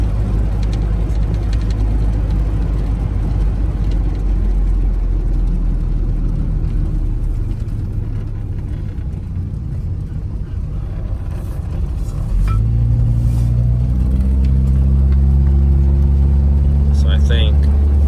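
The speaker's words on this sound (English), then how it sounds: "It's got some horrible exhaust on it that I didn't do." A Ford Mustang Fox Body engine with a straight-pipe exhaust idles with a loud, raspy exhaust rumble, then revs up near the end with a rising growl.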